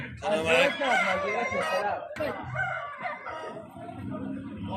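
Several chickens cluck and a rooster crows nearby amid a busy, noisy background with people talking at the Friday poultry and pigeon market in Al-Aziziyah.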